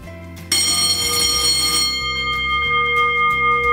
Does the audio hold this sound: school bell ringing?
yes